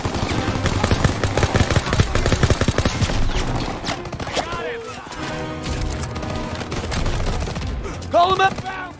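Sustained World War II battle gunfire from Call of Duty WWII, dense overlapping shots and explosions under shouted voices and music throughout.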